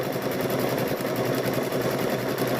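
A sewing machine stitches two 10-inch quilt squares together, a steady close whir running without pause for a few seconds, no voices over it.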